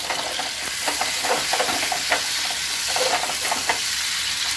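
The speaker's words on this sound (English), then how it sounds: "Just give it a stir." Salsa sizzles over high heat in a pan while being stirred, with a steady frying hiss under scattered scraping strokes, close and fairly loud.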